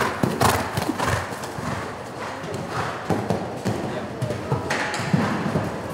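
Horse hooves clip-clopping around a show-jumping course during a young-horse training class at a riding event, a steady rhythmic stream of thuds with an occasional whinny over background voices and arena noise.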